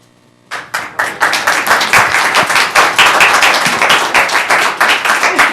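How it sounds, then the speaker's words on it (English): Audience members clap at a council meeting, a burst of many hands starting abruptly and holding steady, loud and close with dense overlapping claps and no talk. "I'd like to ask that we refrain from applause, please"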